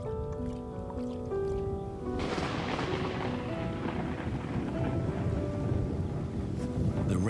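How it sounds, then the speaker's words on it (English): A heavy rainstorm hisses steadily over open land, with a low rumble of thunder underneath and soft background music carrying through the downpour. "The rainstorm brings healing and relief to the land and the lions."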